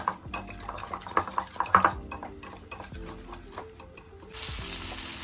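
Butter chicken with cream and salt being stirred in a pan: repeated metallic clinks and scrapes of a spoon against the pan in quick bursts, then a steadier sizzling hiss toward the end.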